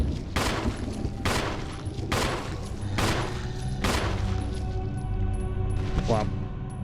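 Pistol shots fired at a zombie in Resident Evil (2002), five sharp, loud reports spaced about a second apart over a low ambient game hum, with a voice speaking underneath.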